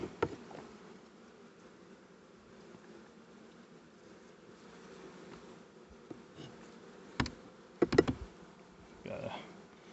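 Bees drone steadily around a newly set-up long hive, a faint continuous buzz close by, broken near the end by a few sharp clicks and knocks of hive work.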